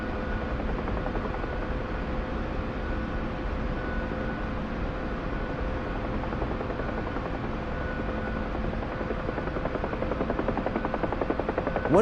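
A helicopter in the DCS flight simulator game gives a loud, steady rotor and turbine drone that pulses continuously with an even rhythm and no change in level.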